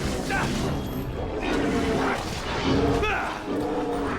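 A dog barks and yips while attacking in Dragon Age: Origins, short game-combat barks repeated over a noisy battle mix with a voice talking over it.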